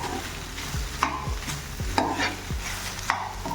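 Soya chilli stirred in a pan, a spatula scraping and knocking in repeated strokes roughly every half second over a low sizzle, close and without talk.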